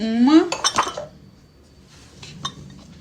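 A blender jar is set down with a clatter of glass and kitchenware in a home kitchen during cake baking, with a few close clinks and knocks followed by a quieter, fainter clink.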